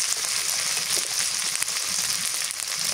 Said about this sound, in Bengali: এবার দিয়ে দিই পেঁয়াজ রসুন মরিচ বাটা জিরা বাটা একসাথে বেটে নিচ্ছি।